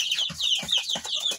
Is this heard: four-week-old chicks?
yes